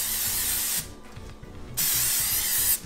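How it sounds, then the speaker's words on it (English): Cooking spray from a can, two bursts of bright hiss with a short pause between, close and loud over a low background hum. "All right, that's spray again."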